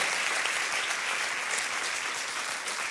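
A church congregation applauding loudly at a French-language worship service, dense steady clapping from many hands filling the room without a break.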